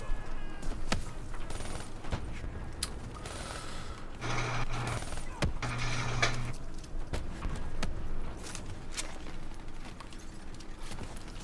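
Gunfire in the video game Call of Duty Black Ops III, sharp repeated shots and bursts scattered over a dense battle din, with a steadier rumble in the middle stretch.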